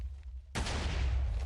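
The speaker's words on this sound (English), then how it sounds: "Oh, the most OP cannon, most OP tech. We should be firing" A Minecraft TNT cannon fires with a sudden loud blast that becomes a sustained roaring rumble of explosions, following a brief quieter lead-in.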